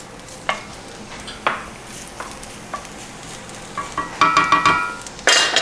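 Onion goes into a pan for a Bolognese sauce, with sharp stirring scrapes and clacks at intervals, then a brighter sizzle and clatter building toward the end, close with no talking.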